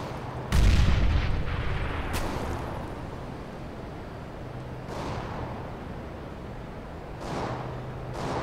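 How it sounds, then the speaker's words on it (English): Grenade blast in CS:GO, one loud low booming detonation near the start followed by a fading rumble and a few fainter distant shots and thumps. "Grenade out!"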